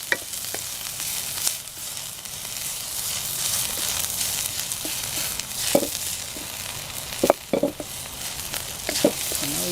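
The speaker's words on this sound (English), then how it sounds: "the pan's hot, so in goes the garlic" Garlic sizzles and fries steadily in a hot pan over an off-grid cooking fire, a dense close crackle with occasional louder stir clatters and no talking.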